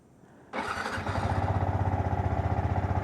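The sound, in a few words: motorcycle engine starting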